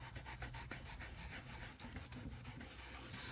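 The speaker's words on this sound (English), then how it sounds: "I'm burnishing to really get this color well pressed into the double-sided adhesive" Microfine glitter is burnished onto double-sided adhesive, a soft, close rubbing scratch repeated in quick, uneven strokes, faint and continuous with no talking.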